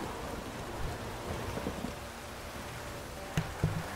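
Thunderstorm in the video game Witcher 3: steady rain hiss with low rumbling thunder throughout, and two sharp, louder thunder cracks near the end.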